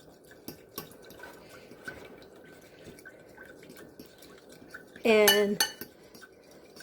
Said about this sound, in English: It does take a bit to get the honey to mix in with the soy sauce and the vinegar